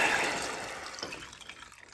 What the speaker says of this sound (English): So we're going to add the water in.